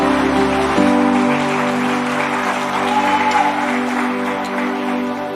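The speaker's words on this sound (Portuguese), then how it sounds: "Quer aplaudir o Senhor? Pode aplaudir." A church congregation at a Portuguese-language celebration service applauding, a dense steady patter of many hands with organ or keyboard tones sustained underneath throughout.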